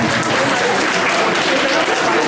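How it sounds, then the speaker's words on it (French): A conference audience claps in loud, dense, continuous applause, heard close with a murmur of voices mixed in. "applaudissez s'il vous plaît d'abord"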